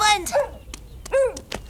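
A cartoon dog stuck up high gives short yelping barks and whimpers, with a brief spoken word between the yips.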